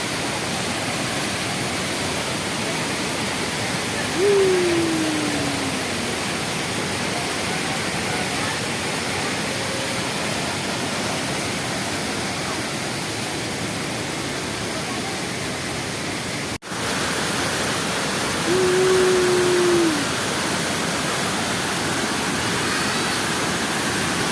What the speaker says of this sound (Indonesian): Pesona air terjun Telunjuk Raung